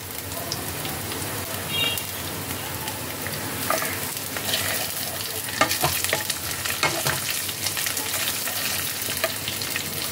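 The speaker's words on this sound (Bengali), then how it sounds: "এবার আমি এর মধ্যে দিয়ে দিচ্ছি কাঁচা লঙ্কা কুচি" Chopped green chillies fry in oil with onion, ginger and garlic for dhaba-style paneer bhurji, giving a steady loud sizzle with scattered crackles and stirring scrapes throughout.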